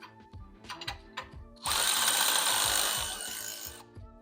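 A power tool loosening bolts on a Ram front track bar: a few short clicks and taps, then a loud, sustained buzzing run of about two seconds that tapers off, close by with no talk.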